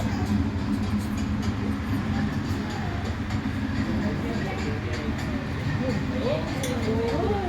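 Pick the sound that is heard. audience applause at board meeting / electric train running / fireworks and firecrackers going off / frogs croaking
electric train running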